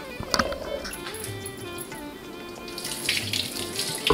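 Tap water runs steadily into a bowl as sago pearls are washed in a kitchen, with splashing and clinks of grains and vessel, close and moderately loud, and no talk.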